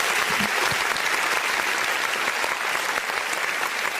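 Sustained studio audience applause on a talk show, dense and fairly loud clapping that holds steady from start to finish with no voices on top.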